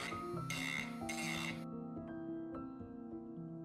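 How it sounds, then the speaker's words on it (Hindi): A rasp files the rough edges of a kitchen knife built from Lego plastic, giving two short bursts of dry scraping strokes followed by fainter rubbing against a steady tonal hum. "रेती से घिसकर इसके किनारों को चिकना करके इसका खुरदुरापन दूर करना जरूरी है"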